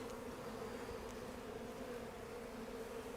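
Honey bees buzz steadily inside an early-spring hive, a dense continuous drone that stays even and close throughout with no voices.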